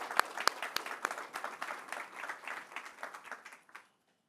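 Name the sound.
audience round of applause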